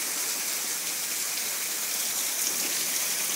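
Rain pours down in a steady, dense hiss that stays even and unbroken, close by and fairly loud, with no voices over it.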